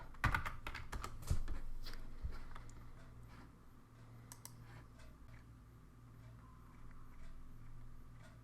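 Rapid clicking of computer keys as someone types a Bootstrap nav bar search on a keyboard, busy bursts of keystrokes at the start thinning to sparse taps over a steady room hum.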